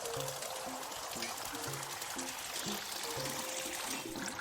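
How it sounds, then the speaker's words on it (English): Water pours steadily into a teapot in the video game Wanderstop, a continuous trickling stream that runs the whole time beneath gentle, repeating game music. "There, pour the water."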